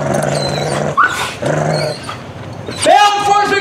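A police K-9 dog barks loudly and close by, with repeated growling barks and whimpers, while officers' voices carry through during a house deployment.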